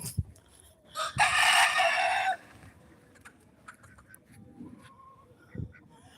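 A small rooster crows once on a farm, loud and close, a single sustained cock-a-doodle-doo lasting about a second, followed by quieter outdoor ambience and a few faint bird sounds.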